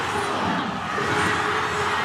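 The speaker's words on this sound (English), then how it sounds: "As the crowd starts to get behind the local team." A stadium crowd at a rugby match roars steadily for the local team, a dense, continuous wash of cheering and shouting at moderate distance.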